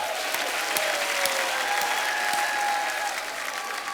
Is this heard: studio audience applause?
yes